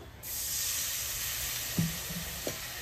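Water splashed into hot spice paste for chicken filling sets off a steady, bright sizzle and hiss in a pan, with a couple of soft stirring knocks near the end.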